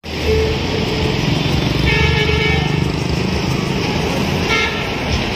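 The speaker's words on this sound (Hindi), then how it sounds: "वाह यह है ऑटो थ्री व्हीलर" A cartoon auto rickshaw three-wheeler runs with a steady, loud, buzzing engine drone from start to finish, joined by a couple of brief horn-like toots, close and continuous.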